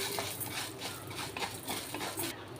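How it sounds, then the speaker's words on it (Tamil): Black urad dal is stirred while roasting in oil in a pan, giving quiet, repeated scraping and light clinking strokes of a spoon against metal, close by with no talk. "இதை எண்ணெயில் வதக்கி எடுத்துக்கோங்க எண்ணெயில் வந்து வறுத்து எடுத்துக்கலாம்"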